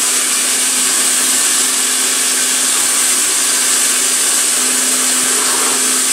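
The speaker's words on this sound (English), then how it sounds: "But I'm drilling four holes." Steady, loud machine whine with a constant hum as a PM727MXL milling machine with flood coolant drills holes in a metal bearing cover, with no voices.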